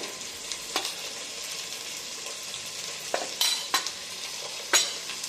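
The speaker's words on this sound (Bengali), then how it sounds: "এখন মশলাটি সুন্দরভাবে নেড়ে চেড়ে কষিয়ে নিব" Spice paste of ground garlic, cumin, turmeric and chili sizzles steadily in a pan while a spoon stirs it, giving several sharp scraping bursts over the frying hiss.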